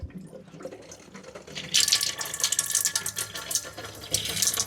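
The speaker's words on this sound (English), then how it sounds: "So turn on the cold water." Water from a caravan sink's cold tap, starting as a faint trickle with a pump working below, then bursting into a loud, steady hissing flow with spluttering surges.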